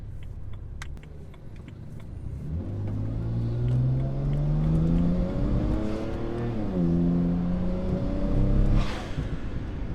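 A BMW 335 with an N54 engine and an aftermarket ignition kit revs hard, its engine note rising and falling loudly, with a brief blow-off valve hiss and exhaust crackle near the end.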